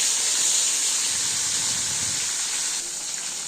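Steady sizzling hiss of food frying in hot oil, close and constant, easing slightly toward the end.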